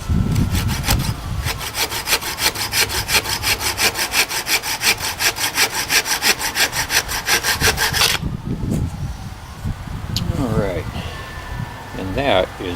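A knife saws through fruitless mulberry wood being shaped into a bow-drill spindle, giving a fast, rhythmic rasping stroke close by that stops abruptly partway, followed by quieter handling sounds and someone talking.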